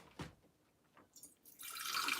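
Hydrogen water poured into a jar for a smoothie, a steady liquid rush that begins midway and runs to the end, close and moderately loud after a few soft clicks.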